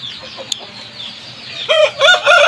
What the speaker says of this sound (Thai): ผมจะพาไปเบิ่งไก่เจ็ดเดือนครับผมไปเบิ่งกันเลยครับ